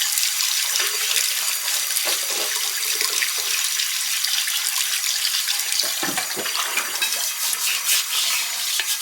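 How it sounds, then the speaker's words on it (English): Iron skillet being scrubbed with a brush under running water, a steady hiss of water with rough bristle scraping underneath, close and continuous with no talking. "take the iron skillet and just scrub it down real good with your brush"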